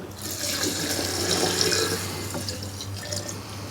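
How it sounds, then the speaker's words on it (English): A quart of 100 proof moonshine is poured into a jar for strawberry banana moonshine, giving a close, steady gurgling liquid stream that runs for several seconds without talk. "I'm gonna add a quart of 100 proof shine"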